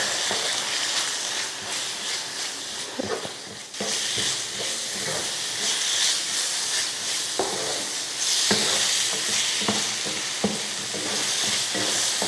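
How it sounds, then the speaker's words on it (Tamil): Chicken rice masala with garam masala, chilli powder, pepper and turmeric sautéed in a pan, a steady close sizzle and fry hiss with intermittent scraping stirs throughout. "இப்போ இதெல்லாம் வதக்கிக்கலாம்."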